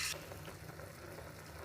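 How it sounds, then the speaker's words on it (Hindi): Fatty mutton sizzles steadily in hot oil inside a pressure cooker, a dense, continuous frying hiss with a brief louder burst at the start and no talking. "ये जो गोश्त है ये चर्बी के साथ है, मैंने चर्बी रिमूव नहीं की, आपने भी चर्बी के साथ ही इसको कुक करना है। तो अब मैं इसको कुकर में ऐड कर दूंगी।"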